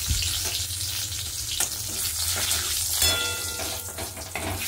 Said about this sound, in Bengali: এবার ওই তেলের মধ্যেই আমি একটা শুকনো লঙ্কাকে ফাটিয়ে দিচ্ছি, ছিঁড়ে দিচ্ছি, আর একটা তেজপাতাও ছিঁড়ে দিয়ে দিলাম, আর গোটা গরম মশলা, এলাচ, দারচিনি, লবঙ্গ ফোড়ন দিয়ে দিলাম।